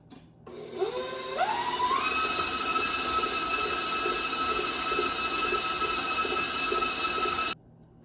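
An electric mixer beats cream cheese, its motor whining up in pitch as it speeds up over the first second and then holding a steady, loud, continuous drone before cutting off abruptly near the end.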